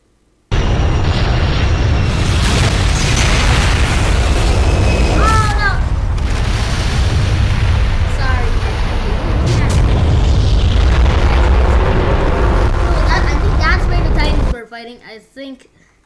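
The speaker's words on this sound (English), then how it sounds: "I don't know why there's so many explosions now" Loud, continuous blasts and rumbling booms from an animated Skibidi Toilet episode fill the scene, dense and sustained for about fourteen seconds before cutting off abruptly, with a brief tonal sweep partway through.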